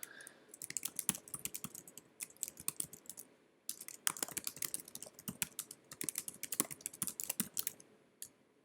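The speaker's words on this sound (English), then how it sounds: "I'm making the text smaller here by just pressing down on my keyboard." Keys pressed on a computer keyboard while resizing text in the Playfair charting app, bursts of close, quiet clicking typing separated by short pauses, with no talk.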